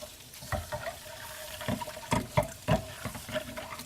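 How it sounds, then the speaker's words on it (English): Hot water from blanched asparagus is drained, giving irregular splashing and pattering bursts with gurgles in a kitchen, moderately close. "I'm going to drain it and then get it into some, just going to let it sit in some ice water"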